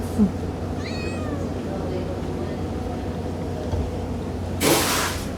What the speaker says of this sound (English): What do you think about all these cats, Eric?